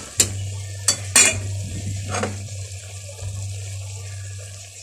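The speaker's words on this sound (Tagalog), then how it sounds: "sabawan ko na siya tubig mga amiga" Water pours into a pot of native chicken tinola soup with a few sharp metallic clinks of utensils against the pot, followed by a steady splashing and running-water wash under a low electrical hum.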